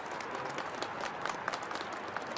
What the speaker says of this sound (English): would you join me in a round of applause for the people who made this possible?